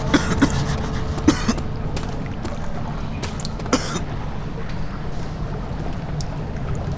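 A character in the horror video game Amnesia coughs in several sharp, rough bursts early on, each cough distinct and fairly close, then a low droning ambience carries on alone.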